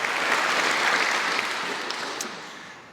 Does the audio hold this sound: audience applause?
yes